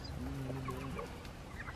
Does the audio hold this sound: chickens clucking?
yes